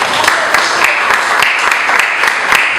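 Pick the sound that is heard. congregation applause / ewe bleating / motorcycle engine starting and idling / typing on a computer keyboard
congregation applause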